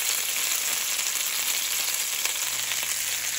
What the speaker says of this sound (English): I browned the pork on both sides with salt.